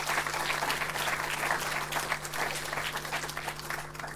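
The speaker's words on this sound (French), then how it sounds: "Donc, on l'applaudit." An audience at an evening prize ceremony gives steady, moderately loud applause for about four seconds, the clapping even and continuous, with a low hum underneath.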